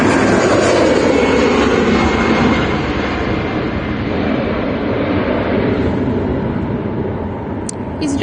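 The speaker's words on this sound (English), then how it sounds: "EasyJet A320" EasyJet Airbus A320 jet airliner at Manchester Airport, a loud, broad, steady engine roar that eases slightly partway through and stays strong to the end.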